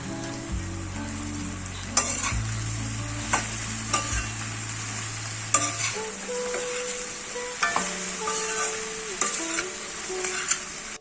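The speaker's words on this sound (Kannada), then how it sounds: "ಬೆಂಡೆಕಾಯಿ ಹಾಕ್ತಾ ಇದ್ದೀನಿ." Cut okra frying in a pan, a continuous sizzle broken by repeated scraping stirs and clinks of a utensil, close and fairly loud, with low hum in the first half and no speech.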